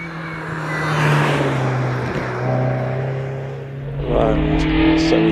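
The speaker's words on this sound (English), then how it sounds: "Gary James coming through the S's in the MX-5" A Mazda MX-5 race car drives through the S bends at the Prescott hill climb, its engine note rising and falling as it passes at moderate distance, with steady loud road and engine noise throughout.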